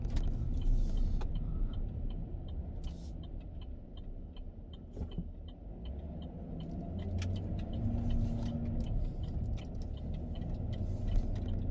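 A car moves along a steep San Francisco hill street, giving a steady low rumble that lasts throughout, with faint light ticks and clicks over the outdoor traffic background.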